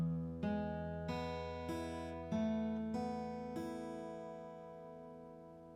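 Guitar picks the last bar of a song, a slow series of about six single plucked notes, each ringing out and overlapping the next, clear and unaccompanied.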